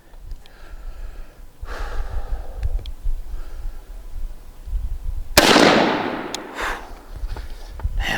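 A Tristar 20 gauge shotgun fires a single Browning TSS 7-9 blend turkey load at a 40-yard pattern test: one loud, close blast with a sharp crack and a long rumbling decay over faint outdoor ambience.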